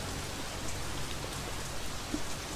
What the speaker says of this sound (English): Oh, look at this fucking rain.